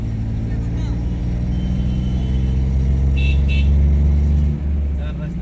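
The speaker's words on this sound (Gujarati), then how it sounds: "ચાર રસ્તે ફૂલ ટ્રાફિક છે" Heavy traffic at a busy crossroads gives a loud, constant rumble of engines close by, with a brief higher horn-like sound in the middle.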